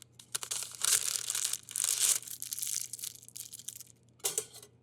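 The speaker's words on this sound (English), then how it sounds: "Spin that into another parchment cone." Sheets of baking parchment are rolled into piping cones for a macaron tower, giving close, crisp crinkling and rustling in three short bursts with brief pauses between.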